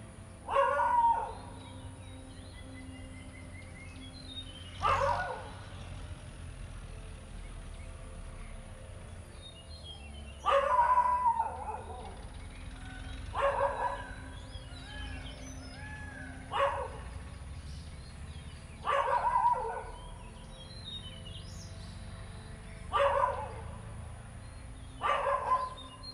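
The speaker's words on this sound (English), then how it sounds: "hear my dogs barking in the background." Dogs barking in the background at home during a stretching session, several short bursts spaced every few seconds over soft music, moderately loud and a little distant.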